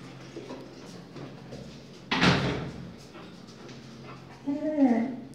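A dog whimpers and whines near a door as it heads out to a pet shop, with a sharp door slam or slide midway and a voice talking softly throughout.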